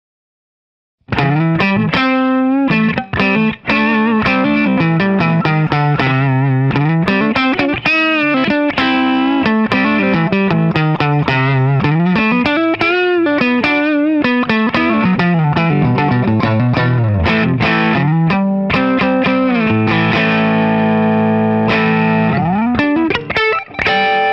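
A BC Rich Mockingbird electric guitar fitted with Seymour Duncan 59 and JB pickups plays a loud, heavily distorted riff with fast, chugging notes and sustained chords, steady for about twenty seconds with no talking.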